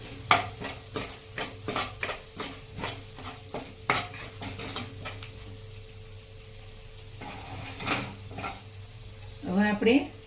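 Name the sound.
stirring and mixing spices in a pan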